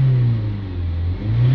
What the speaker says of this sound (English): Give it some revs again.